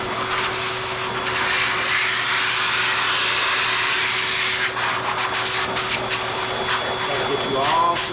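A new blow dryer blasting air at a Mini Aussie dog's coat, a loud steady whooshing roar that runs throughout, with a person speaking briefly underneath.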